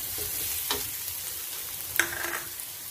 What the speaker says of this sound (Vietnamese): Rồi cho 2 muỗng canh tỏi băm vào mình phi cho nó thơm lên.